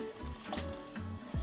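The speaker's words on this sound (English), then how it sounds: "what I'm going to do is add about 3 cups of" Water pours into a pot of beef short ribs that has been cooking down, a steady liquid rush broken by a few short bursts, close and fairly loud with no voices.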